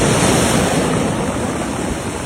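Hurricane Priscilla's towering waves crash on the Baja California Sur coast in a steady, dense roar. Surf and wind blend into one loud, unbroken wash.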